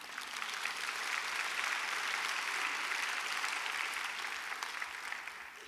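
Sustained audience applause fills a church revival meeting hall for a missionary family, steady and fairly loud from start to finish with no talking over it.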